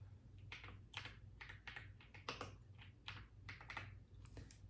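Computer keyboard typing in a quiet room during a soft-spoken ASMR cranial nerve exam roleplay, with bursts of quick, close keystrokes pausing briefly between runs over a steady low hum.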